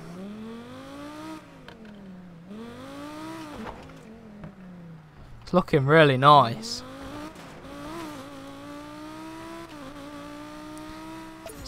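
Audi R8 widebody engine in Need for Speed Payback revving up and down in repeated swells, then a loud burst of tire squeal and hard acceleration midway before settling into a steady drone, with someone talking over it.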